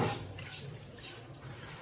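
Water gushes fast from a kitchen sink tap while dishes are washed, a steady, fairly faint hiss that swells and dips slightly.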